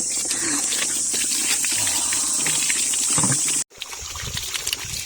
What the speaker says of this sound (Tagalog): Dito kami kumukuha ng tubig kasi malinis.